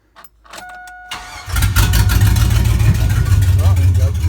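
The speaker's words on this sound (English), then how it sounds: "I may just have to get some fresh gas in this thing to get those injectors firing." A junkyard 5.3 engine in a 1955 Buick Special cranks briefly with short bursts, then catches and settles into a loud, steady rumbling run close by.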